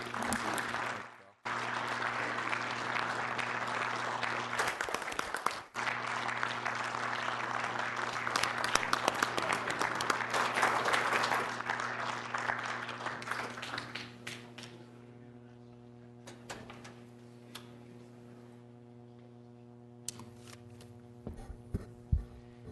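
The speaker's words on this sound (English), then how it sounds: "Let's give him a round of applause because he helped tremendously too." Audience applause at a Rapid City city council meeting honours an award recipient. It is steady and full for about fourteen seconds, then fades into a quiet room with a low electrical hum.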